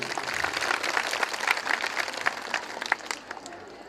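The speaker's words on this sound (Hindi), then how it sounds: "उनके लिए तालियां बजाएं" Audience at a school annual day event applauding, a dense, steady wash of clapping close and fairly loud for several seconds with a few sharper individual claps near the end.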